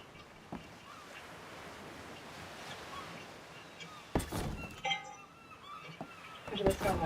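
Ambient water in ARK: Survival Evolved laps and washes like gentle surf at a low, even level, joined later by a few sharper clinks and louder bursts.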